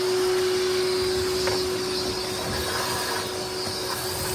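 A shop vacuum roars steadily and loudly, with a constant tonal whine, as it sucks debris out of the intake of a 6.7 Cummins diesel engine after a failed grid heater; no voices.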